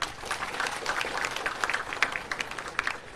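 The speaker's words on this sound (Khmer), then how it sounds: "អញ្ចឹងសុំទះដៃមួយ" An audience at a Cambodian public speech on electricity claps and applauds, a steady moderate patter of many hands at a middle distance that carries on for several seconds.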